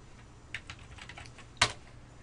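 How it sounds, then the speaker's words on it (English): Someone types a password on a computer keyboard, giving a short burst of soft, close key taps that ends in one louder keystroke, with no talking. "I'm going to go ahead and type a password in."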